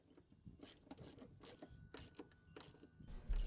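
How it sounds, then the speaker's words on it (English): Ratchet tightening the battery bolt on a Chevy Colorado / GMC Canyon, heard as a quiet run of repeated clicking pawl strokes at close range with no talk. "We can now go ahead and tighten it with the ratchet."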